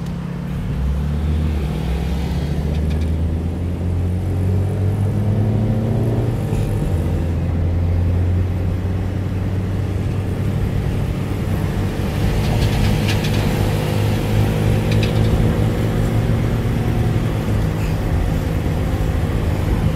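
A 150cc motorcycle-style scooter engine running close by, a loud continuous low rumble that holds fairly steady for the whole stretch, with slight swells in pitch as it is given gas and no talk over it.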